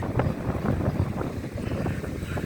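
A motor yacht entering a port makes a low, distant engine rumble, continuous and mixed with gusty wind buffeting the microphone.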